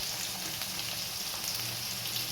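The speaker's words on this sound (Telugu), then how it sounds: "దొండకాయ పచ్చిమిర్చి కొంచెం వేగాయండి." Ivy gourd, green chilies and chopped tomatoes fry in a pan with a steady, soft hiss and crackle throughout, close by and fairly quiet.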